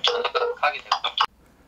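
An outgoing video call's ringing tone plays from a smartphone messenger app, a quick series of bright electronic pulses that stops abruptly after about a second, then near silence.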